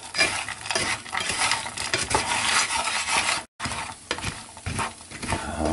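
Almonds roast in a hot pan while being stirred constantly, a loud, continuous scraping and rattling with sizzle that barely pauses once, no voices.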